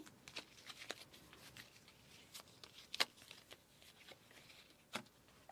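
Quiet, close card shuffling: a series of soft riffles and flicks at irregular intervals, with a sharper snap near the end.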